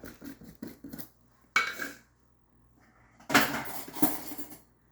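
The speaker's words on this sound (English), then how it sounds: "Don't mind the dishes." Dishes and cutlery clatter in a home kitchen while salsa is being made: a few quick clinks, then a brief clank, a pause, and a louder jumble of crockery knocking together, all close by.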